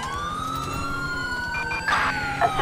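Police car siren from the GTA 5 video game, a steady rising-and-falling wail that stays loud and close throughout with no voices over it, and a second siren tone briefly joins near the end.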